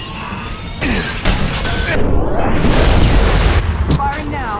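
Anti-ship battery cannons fire in the game Mass Effect 2 with heavy booming blasts and a long rumbling roar, accompanied by sweeping tonal effects and speech over the top.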